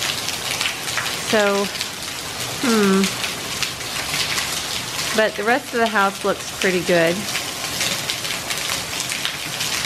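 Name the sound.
heavy rain falling on a house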